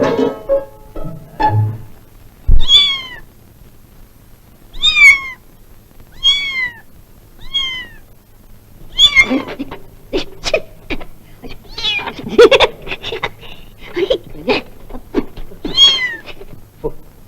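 A cat meows repeatedly in a film scene, a series of clear, close meows spaced a second or two apart, growing more frequent toward the end, with little talk.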